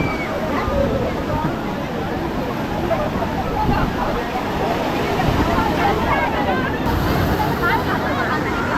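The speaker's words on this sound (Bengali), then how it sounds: "সমুদ্রের ঢেউ দেখো একবার, বিশাল ঢেউ" Big monsoon waves at high tide on Digha beach make a dense, continuous roar of surf and sloshing water, close and loud, with crowd chatter and talking mixed in.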